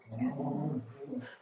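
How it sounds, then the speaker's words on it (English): Several dogs fight indoors, with low growls and whimpers in a short, close, rough burst. "My dogs are fighting."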